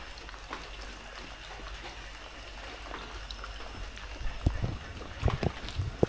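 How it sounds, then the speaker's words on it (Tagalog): Heavy rain falls as a dense, steady hiss, with a few louder, nearer splashes and thumps toward the end. "Malakas po ang ulan."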